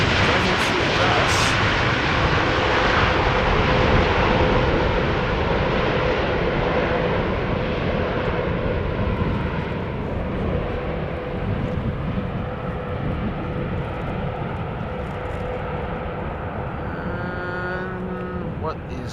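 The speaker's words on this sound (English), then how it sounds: "Privately owned Piper PA46 on its way to runway 22." A privately owned Piper PA46 light aircraft taxis toward runway 22 at Schiphol Airport, a steady propeller-engine drone that stays fairly loud and slowly eases, with a person talking over it.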